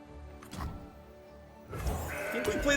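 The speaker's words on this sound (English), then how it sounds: "I think we play the goat here." A goat card in the Legends of Runeterra video game gives a short synthetic bleat, followed by game effect sounds with a rising chime, no talk.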